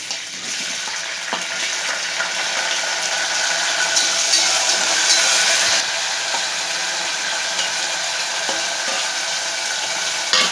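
Tomatoes frying in a pan for a colocasia (arbi) gravy with curry leaves, giving a steady, close hiss and sizzle that holds at an even loudness throughout, with no talking.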